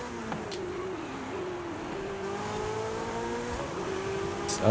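Car engine droning steadily while driving in Forza Horizon 5, a heavy-handling car with a continuous mid-pitched hum that shifts gears slightly, close and alone throughout.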